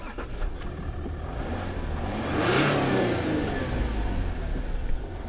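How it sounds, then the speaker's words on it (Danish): Range Rover Velar R-Dynamic with a six-cylinder diesel engine revs up steadily, a close, continuous mid-pitched growl that swells to a peak midway and holds without talk. "En 6-cylindret dieselmotor"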